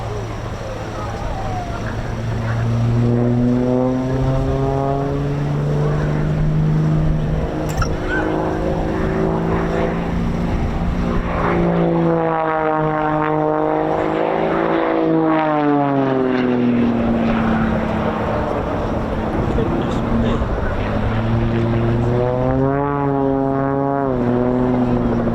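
An Extra 300 aerobatic plane flies past at an air display, its propeller engine droning loudly with pitch sweeping up and down as it passes, steady throughout under faint crowd noise.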